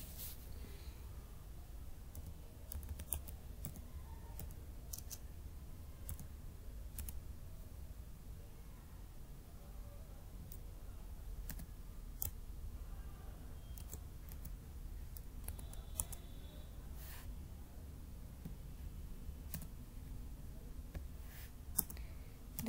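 Java code being typed on a computer keyboard, faint scattered key clicks with occasional sharper taps over a low background hum.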